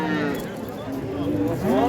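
Cattle at the Shahrixon livestock bazaar in Andijan, one cow giving a rising moo near the end over a steady market murmur while people talk close by.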